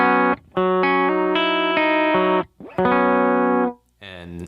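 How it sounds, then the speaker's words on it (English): Clean electric guitar tone played through a pedalboard: sustained chords and notes ring out in bursts with short gaps between phrases, bright and close, with no talking. "So clean tone."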